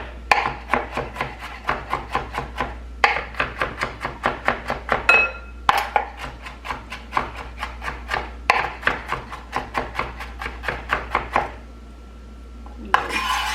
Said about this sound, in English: I'm just gonna make sure that they get chopped up very finely